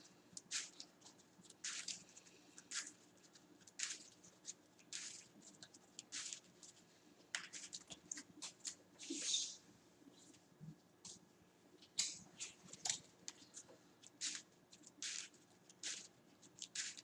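Playing cards for the Marvel Champions card game are shuffled by hand at close range: repeated short, soft riffles and slides, quiet and crisp, with brief pauses between bursts and no talking.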